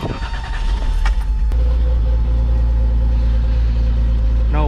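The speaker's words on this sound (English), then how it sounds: "I'm gonna go ahead and turn on the truck" A pickup truck with a swapped 3.4 engine cranks and fires up, then settles into a loud, steady low idle close by, with a faint click and jangle near the start.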